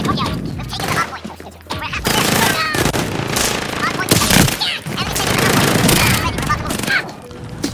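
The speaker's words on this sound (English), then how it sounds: "Enemy sentry gun active." Rapid automatic gunfire from an enemy sentry gun in the shooter Call of Duty: Modern Warfare during a Hardpoint match, dense, loud bursts filling most of the stretch, mixed with other game sounds and voices.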